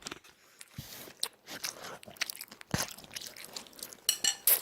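Close, crisp bites and crunchy chewing of mandu dumplings, a series of irregular mouth sounds with a few louder crunches toward the end and no talking.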